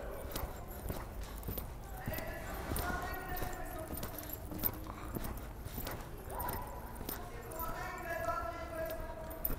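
Horse hooves clip-clop steadily as a mare works through a riding exercise, the rhythmic footfalls running under a riding instructor's continuous coaching.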